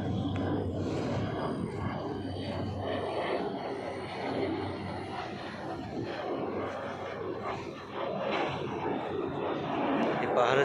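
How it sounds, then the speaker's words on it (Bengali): A fighter jet flies overhead above hills around a lake, its broad, steady roar filling the whole stretch while someone talks over it in gusty wind. "এই যে একটা উপর দিয়ে ফাইটার বিমান যেতেছে"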